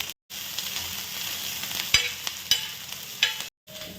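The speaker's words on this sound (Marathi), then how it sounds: "कांदा फ्राय करून घेते आधी. थोडा कलर चेंज होईपर्यंत भाजून घ्यायचा आहे" Onion and garlic fry in oil with a steady close sizzle, broken by a few sharp clinks and scrapes of stirring, with short silent gaps at the start and end.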